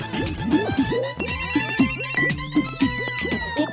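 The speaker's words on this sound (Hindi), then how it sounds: "सबसे पहला फोन भल्ला अंकल को ही लगाते हैं।" A phone rings in a Hindi cartoon, a bright, melodic ringtone repeating in quick looping bursts, loud and alone with no speech.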